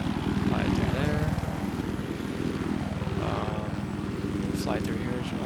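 A helicopter in a Battlefield video game flies along with a steady, loud, rapid rotor chop and engine drone throughout, with brief whooshing sweeps as it maneuvers, under a voice speaking.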